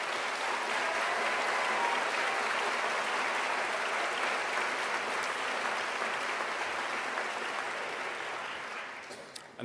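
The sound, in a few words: audience applauding staff at a graduation ceremony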